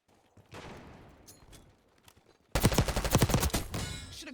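A C9 SMG fires in Black Ops 6, starting with faint distant shots and rumble before a loud, rapid close burst of automatic fire cuts in and rattles on for nearly two seconds.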